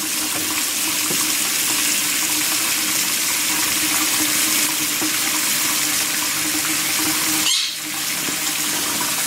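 Tap water runs steadily and loudly from a faucet as salmon pieces are rinsed to wash off bits of skin, a constant close splashing hiss that briefly shifts near the end, with no talking.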